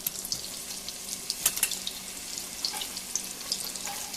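Chopped onion sautés in melted butter for a Brunswick stew, a soft steady sizzle close by with a few light scraping and clinking touches of a utensil in the pan.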